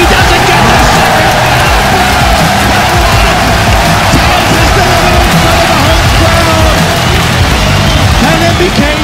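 A large esports arena crowd at a Counter-Strike final cheers and yells in a dense, continuous roar that fills the space, with no gaps or lulls.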